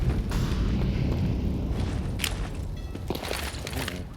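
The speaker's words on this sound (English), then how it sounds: "Nades, oh, they're well placed." Grenade explosions in Counter-Strike on the Overpass map during a pro match, a dense rumbling boom texture with a few sharper bursts near the end, loud and continuous over low game noise.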